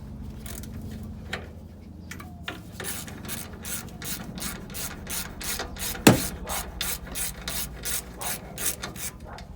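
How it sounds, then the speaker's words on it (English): A hand ratchet clicks steadily in rapid bursts while working a stuck nut loose on a 1992–96 Ford F150 during a leveling kit and shock install, close up, with one sharp metallic knock midway. "I'm gonna try to remove this nut right here, which I know it's gonna be a pain"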